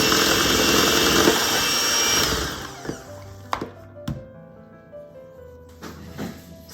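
An electric mixer whirs loudly while beating cream cheese into ube pound cake batter, then stops. A few sharp clunks and knocks of the bowl and beaters follow in a quieter room.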